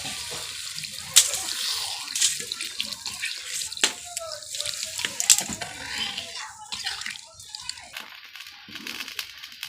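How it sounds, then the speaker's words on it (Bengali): Water splashes and runs as it is poured into a pan of bata fish curry made with melon-seed and poppy paste, a continuous close hiss with clinks and knocks while a person talks over it. "এবার আমি জল দিয়ে দিচ্ছি।"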